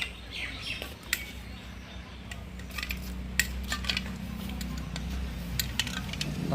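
Mango pieces being mixed with spices and oil by hand for homemade mango pickle: irregular clinks and scraping taps of a utensil against a pot, moderately faint over a low steady background hum, with no talking.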